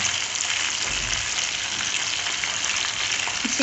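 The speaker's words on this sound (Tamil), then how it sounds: "இப்போ வந்து நான் அதை எண்ணெயில் பொரிச்சிட்ருக்கேன்." Marinated chicken pieces frying in oil, a continuous close hiss and crackle of sizzling with a steady even texture and no talking.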